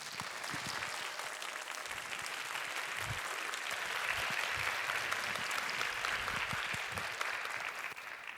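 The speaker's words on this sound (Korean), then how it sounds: "나오실 때 큰 박수로 환영해 주시기 바랍니다." A church congregation applauds to welcome a pastor, a sustained roomful of clapping that builds slightly in the middle and holds steady, with occasional low thumps underneath and no speech.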